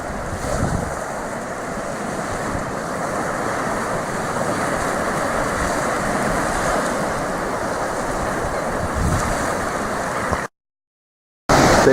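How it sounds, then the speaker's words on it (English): Ocean waves wash continuously onto the beach at Penguin Island, a protected part of the island, with loud surf and heavy wind buffeting the microphone. A brief silent gap comes near the end before the surf returns. "Taking pictures of the water coming in here on Penguin Island."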